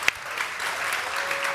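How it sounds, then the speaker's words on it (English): Audience applause at the closing of the Nudgestock 2023 conference, a continuous patter of many clapping hands, moderately loud, with a single sharper clap near the start. "A huge round of applause piece to the team that put it on"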